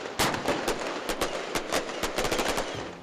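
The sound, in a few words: Diwali firecrackers bursting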